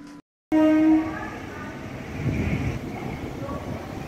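At Chennai Beach railway station, a train's horn blares loudly for about half a second, followed by the rumble and clatter of rail cars rolling nearby.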